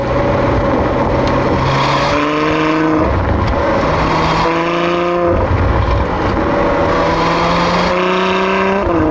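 A Ferrari F12 on the move with its exhaust valves opening and closing automatically, the engine note loud and close, dropping and rising through gear changes as the tone shifts between muted and throatier sections.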